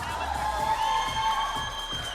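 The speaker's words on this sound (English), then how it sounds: "can we just give him a big round of applause" A live esports crowd at an MPL Philippines Mobile Legends match cheers and shouts for the winning team, a steady roar of voices with whoops throughout, while an announcer speaks over it.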